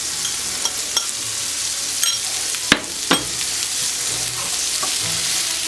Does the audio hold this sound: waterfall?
no